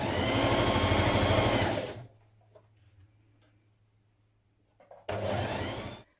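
A sewing machine stitching skirt pieces of a Vogue 9252 spring dress, running in a fast, loud whirring burst for about two seconds, stopping through a quiet pause with faint handling sounds, then starting again in a second short burst.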